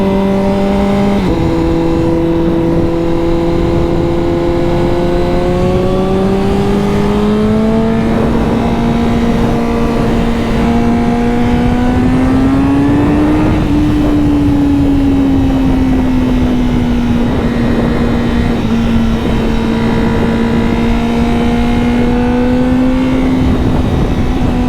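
A Honda CBR1000RR-R Fireblade SP motorcycle, roughly 200 horsepower, screams up through the revs in power setting 1, its loud, continuous engine whine rising and shifting in pitch as it pulls hard through gears, close and with no talking.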